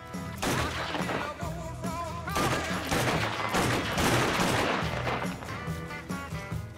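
Sustained machine-gun fire in the Mafia 3 game rattles through a chase, loud continuous bursts layered over engine and crash noise with little talk.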